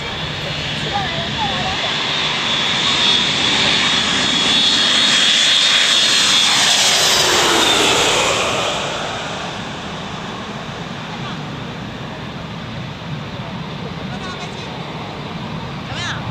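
A fixed-wing airplane passes overhead near Zhishan Garden on Fuyuan Street. Its broad engine roar swells to a loud peak midway, then fades as it moves off, with faint voices in the background.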